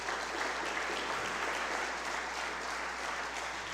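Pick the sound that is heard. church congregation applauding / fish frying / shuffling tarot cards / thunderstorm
church congregation applauding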